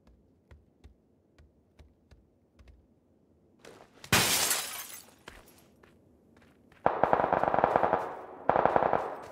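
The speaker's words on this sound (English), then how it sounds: "Oh, there's more shooting going down." PUBG gunfire in a video game: faint distant shots tick at first, then loud bursts of automatic fire crack in with glassy, shattering bursts near the end.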